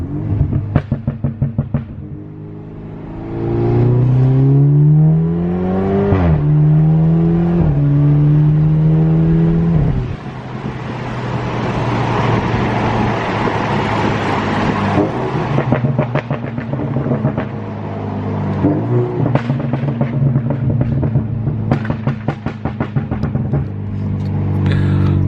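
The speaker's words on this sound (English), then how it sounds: "I love all the sounds this car makes. So many turbo sounds. Just spooling and then some pops and bangs." A BMW F30 with an N26 engine revs hard, its turbo spooling up with a rising whine, followed by steady engine drone and crackling exhaust pops and bangs, loud and close throughout.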